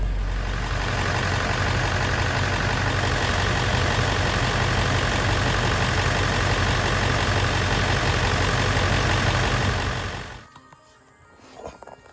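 A Ford 7.3 Powerstroke diesel engine running just after startup, a loud, steady low rumbling idle that holds for about ten seconds and then cuts off abruptly into quiet.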